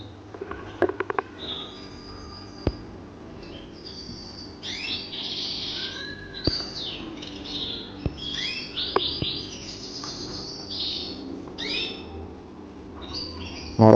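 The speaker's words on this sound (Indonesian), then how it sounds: "ngorok burungnya ini bos." A sick canary with a breathing ailment gives faint wheezing, snoring breaths mixed with soft chirps and squeaks, close by and quiet, with occasional handling clicks around it.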